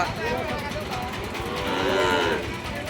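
Sahiwal cattle at a border-area cattle market low repeatedly, a loud close moo swelling and fading over a crowded, noisy market background.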